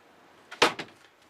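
A wide kitchen drawer in a Challenger Vany V114 camper van slides shut with a short scrape, a sharp close, and a softer rebound knock in a quiet interior.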